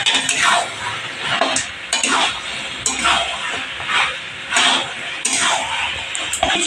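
Goat meat, drained after boiling, is stirred and fried in spices with yogurt, loud sizzling swelling and fading in repeated sweeps as a spatula scrapes the pan close by.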